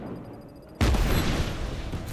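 Grenade blast in the video game Just Cause 3: a sudden loud booming burst after a quiet stretch, followed by a sustained rumbling roar with no talk over it.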